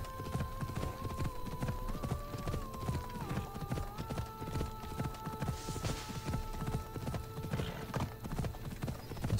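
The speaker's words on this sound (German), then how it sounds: "Du störrisches Pferd." A horse trots in Assassin's Creed Odyssey, its hooves clip-clopping in a steady, brisk rhythm throughout. Sustained tonal game music plays underneath, and no one speaks.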